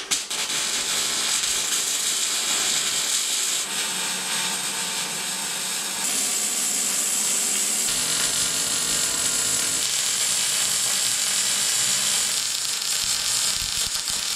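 A steady, continuous high-pitched grinding rasp of an abrasive tool on metal parts of a homemade pitchfork attachment before welding, loud and close, running without pause.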